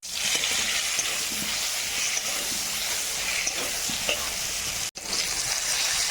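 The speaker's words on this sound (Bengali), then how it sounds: "তেল দিয়ে বেগুনগুলি দিয়ে দিলাম, এরপর পরিমাণ মতো লবণ আর পরিমাণ মতো হলুদ দিয়ে বেগুনগুলি আগে একটু ভেজে নিতে হবে" Eggplant pieces fry in hot oil with salt and turmeric, a dense, steady sizzle that runs continuously, close and fairly loud, with a brief dropout near the end and no talking.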